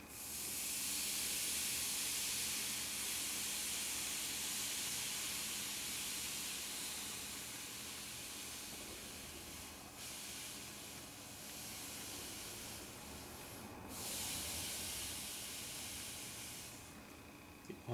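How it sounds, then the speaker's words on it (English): A steam iron held over a rag on a wooden gun stock hisses continuously as it steams out dents, a steady, fairly quiet rush of steam that swells slightly in places. "You steam it. See the steam coming out."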